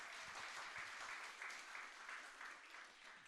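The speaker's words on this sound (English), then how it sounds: "Round of applause to the Korean Cultural Center." Audience applause fills a community meeting room, a steady, dense patter of many hands clapping for about three seconds, fairly faint and without voices.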